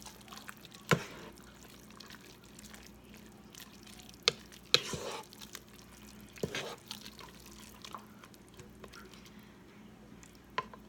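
Cooked spaghetti stirred inside a pressure cooker, giving soft wet squishes and a few sharper clicks of the utensil against the pot, close and fairly quiet.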